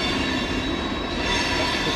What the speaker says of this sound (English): This train, the long distance train, has a single unit up front and a single unit at the back